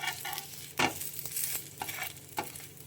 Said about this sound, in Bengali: এমনি করে প্রতিটা পাটিসাপটাকে আমি ভেজে নেব।